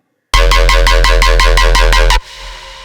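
A bright jump-up drum and bass synth bass preset in Serum, semitone set to 7, plays a rapid run of repeated notes for about two seconds, loud and close, then cuts off into quiet hiss.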